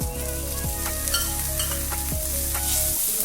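Green chillies and cooked cluster beans sautéing in a pan, a loud close sizzle with a few sharp stirring scrapes of a spatula over a steady hum.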